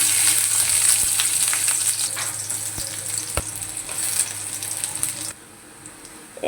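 Chopped onions frying in hot oil, a steady loud sizzle with occasional sharp clicks from stirring, quieting abruptly near the end.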